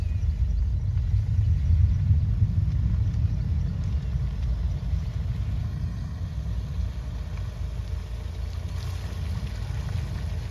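A Hyundai Venue straining off-road, its engine droning in a steady low rumble as the tyres spin, continuous and fairly loud with no break throughout.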